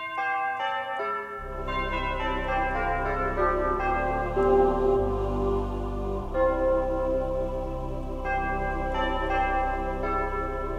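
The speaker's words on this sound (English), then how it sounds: "Or beautiful church bells." A Lowrey Legacy electronic organ plays a slow, ringing church-bell chime pattern, sustained tones layered over a steady low drone, continuing without voices.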